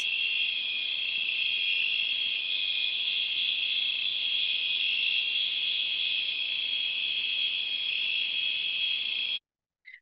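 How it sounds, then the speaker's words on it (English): Electronic circuits synthesize night insect chirping as a steady, dense cricket-like trill that runs loud and unbroken for about nine seconds, then cuts off abruptly, followed by a brief faint blip. "are circuits that are producing the sounds of night insects"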